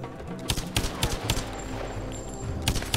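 Bursts of video game gunfire from Lara Croft and the Temple of Osiris, several sharp loud shots in an irregular volley over a continuous low rumbling backdrop.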